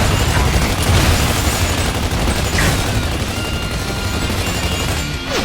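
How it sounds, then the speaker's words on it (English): Sustained gunfire and battle din from the Grindyard map in Gears of War 2 Horde mode: a dense, continuous roar of shooting, with occasional sharper cracks, that stays loud throughout. "when fierce fire from below kept us pinned down"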